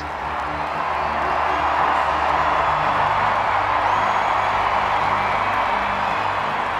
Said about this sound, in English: Make some noise, says the scoreboard. And you can hear the crowd respond.